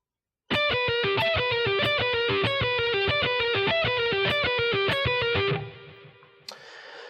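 A distorted electric guitar plays a slow lick of separate notes with pull-offs in an even rhythm, then the last note rings out and fades.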